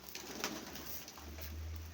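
Soft pigeon cooing and rustling outdoors, with a low steady hum entering partway through; no talking.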